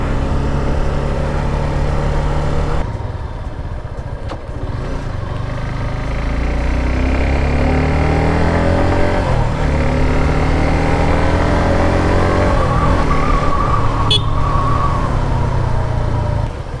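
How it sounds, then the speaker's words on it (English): A Suzuki Gixxer SF250 motorcycle engine hums loudly and steadily during a test ride, its pitch rising and falling with the throttle, accompanied by constant wind rush and no talking. "So finally I'm test riding the GIXXER SF250."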